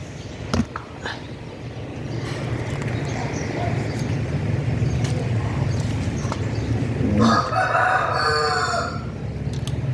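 A rooster crows once near the end over a constant background rumble, with a few sharp clicks early on.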